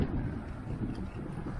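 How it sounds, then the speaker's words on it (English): Steady low rushing headwind buffeting the microphone on a gravel bike ride alongside a highway, a dull continuous roar without voices. "Kind of windy now."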